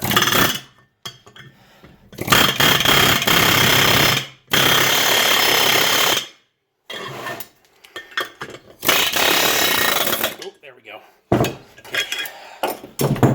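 Repeated bursts of sharp metallic hammering on a mobile home brake wheel stud and rivet, arriving in several loud, close clusters of rapid taps with short pauses between them.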